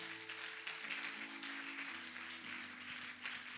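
A church congregation applauds in praise during worship, a steady wash of clapping from many hands with sustained musical tones, likely keyboard, beneath it.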